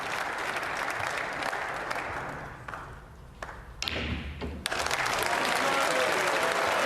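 The crowd at a British Open snooker match in Brentwood applauds a positional shot, with steady clapping that dips briefly while the balls knock and tap, then swells again and continues.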